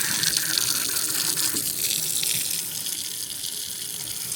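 Water running steadily from a sink tap with hot and cold supply in an old church, a close hissing gush that eases slightly partway through, with no talking.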